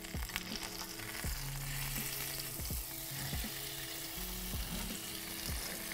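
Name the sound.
harissa pomegranate cauliflower sizzling in a pan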